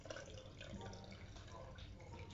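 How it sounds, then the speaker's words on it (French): Water runs steadily into a pet's bowl, with a close, fairly quiet pouring and trickling sound and no pauses over the short stretch. "Je rajoute de l'eau à fond."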